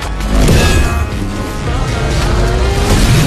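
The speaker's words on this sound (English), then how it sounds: "That's the sound of lightning." Lightning strike sound effect styled as a mighty thunderbolt, a loud, sustained roaring crackle and rumble that fills the whole short stretch without letting up.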